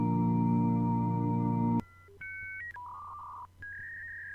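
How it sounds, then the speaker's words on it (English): A dial-up modem dialing, a steady dial tone cut by a click, then a quick run of pitched touch-tone beeps in distinct steps, clear and moderately loud. "Nobody has AOL dial up."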